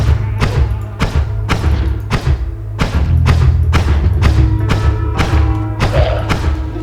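Explosions in the video game Noita, a rapid series of about ten heavy booming thuds at a roughly even beat, loud over a constant low game rumble.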